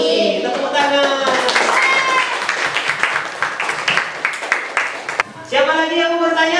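A classroom of students breaks into hand clapping for several seconds, a dense patter of claps mixed with excited young voices, then speech resumes.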